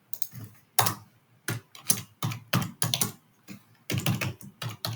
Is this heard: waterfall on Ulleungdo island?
no